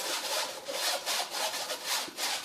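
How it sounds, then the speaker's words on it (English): A whisk pushes thick pastry cream through a metal sieve, giving a steady run of close, scratchy rubbing strokes with a rhythmic back-and-forth pulse and no voices. "a little stir, and help it through with my whisk"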